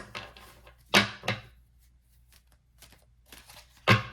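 Tarot cards being shuffled up close: three quick, crisp riffling bursts separated by quieter pauses with faint handling noises.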